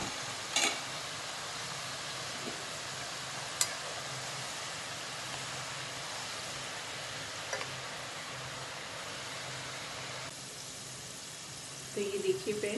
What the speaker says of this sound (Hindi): ये हमारी लाइट वेट होकर ऊपर आ गई है, दाल फ्राई हो गई है।